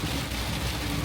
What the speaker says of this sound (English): Massive shower here. It's a little bit of hail in it.